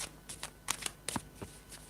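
A deck of tarot cards is shuffled up close, giving a quick series of crisp riffling flicks and soft slaps, with no talking.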